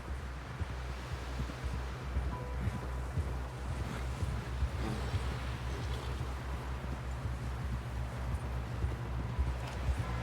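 Steady clip-clop of horse hooves with a regular rhythm over a constant low rumble and wind-like noise, no clear talking.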